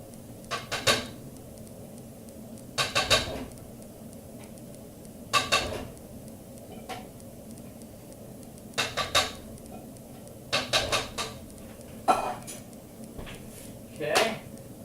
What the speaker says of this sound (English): I'm just adding regular tomato soup